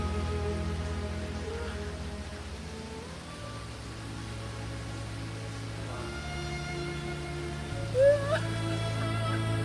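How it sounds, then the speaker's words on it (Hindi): Artificial rain falls on a film set as a steady, even hiss of spray and drops, with a low hum beneath and a brief bump of sound near the end. "सर बारिश कराइए सर"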